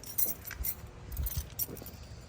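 Keys for a 1965 Buick Riviera jangle and clink in a hand near the trunk, in several faint, irregular bursts.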